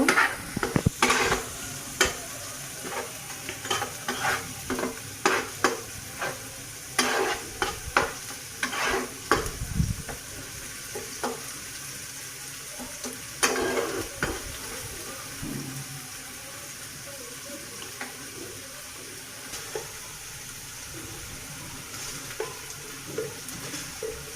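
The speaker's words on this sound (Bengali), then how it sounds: "এইভাবে কয়েক সেকেন্ডের মতো মশলাটা আমি কষিয়ে নিব" Spices sauté in a pan for koi fish dopeyaja, with frequent sharp clinks and scrapes of a stirring spoon over a low, steady sizzle and a brief watery splash partway through.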